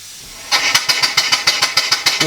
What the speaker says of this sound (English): I'm going to give this marine engine a run as well.